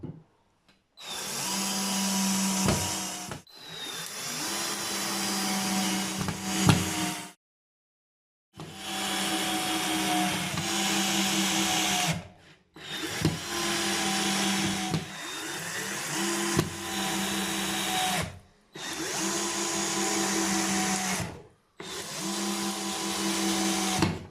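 A Parkside 12V cordless drill-driver with a PH2 bit drives 3.9 mm PH2 screws. The motor whirs loudly and close in several runs of a few seconds each, separated by short pauses. No one speaks.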